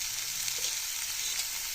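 Onions fry in a pan as the base for a chickpea dal curry, a steady close sizzle with no talk.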